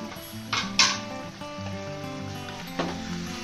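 Chicken fries in a clay pot as green chillies go in, with a moderate sizzle under clanks and scrapes of a utensil against the pot, a couple of sharper knocks near the start.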